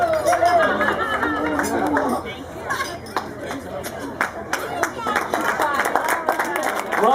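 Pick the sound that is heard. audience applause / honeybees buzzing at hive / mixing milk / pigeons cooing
audience applause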